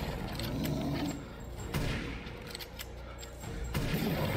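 Gunfire aimed at a boss in the video game Resident Evil Village, a handful of sharp shots at irregular intervals over low rumbling game ambience, moderately loud with no one speaking.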